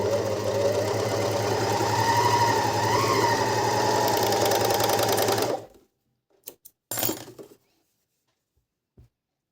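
A Janome 210D overlock sewing machine runs steadily at speed for several seconds with a dense mechanical whir, then stops, leaving a few small clicks and clinks near the machine.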